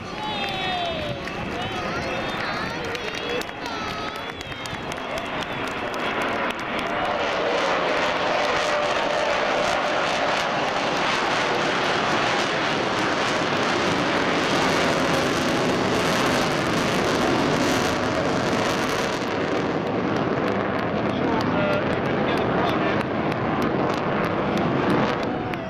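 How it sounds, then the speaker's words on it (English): Avro Vulcan bomber XH558 flies past at the Clacton air show, its engines building into a loud sustained roar that swells and rumbles over a crowd, with voices heard beneath it. "Ladies and gentlemen, the Vulcan Bomber!"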